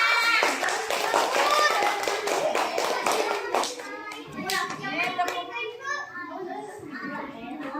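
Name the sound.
applause, children clapping hands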